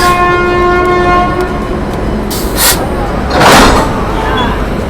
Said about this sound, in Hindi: ये है हमारा लोकोमोटिव जो कि आज हमारी ट्रेन को होल्ड करेगा टिल केवड़िया